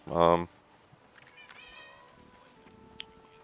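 A pet cat gives a short, loud meow, then quieter indoor rustling and a faint thin tone follow, with no one speaking.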